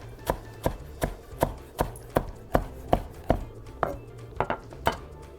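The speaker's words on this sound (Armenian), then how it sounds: "Հիմա ես մի քիչ մանրացնեմ ու ավելացնենք կամած մեր աղցանը" Salad ingredients chopped with a knife on a board, about fifteen rapid, evenly paced knocks, close and crisp, with no voices.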